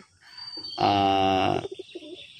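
A caged female desi coloring golla pigeon gives one sustained, tonal call of nearly a second, loud and close. Short, softer murmuring notes come before and after it.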